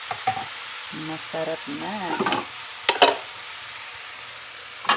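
Leaves sautéed in a pan with spices, a steady sizzle and stir under brief talk, with a few clattering utensil scrapes near the end.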